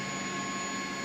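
A CH-47D Chinook helicopter engine starting up in the X-Plane 11 flight simulator gives a steady, even turbine whine and rumble with no break and no voices.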